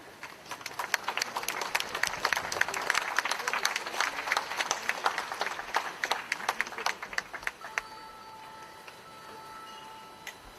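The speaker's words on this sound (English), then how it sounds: "Give a big clap." Applause from an audience at a live community gathering, dense claps spread across the room for several seconds, then thinning out as a steady tone and a voice take over.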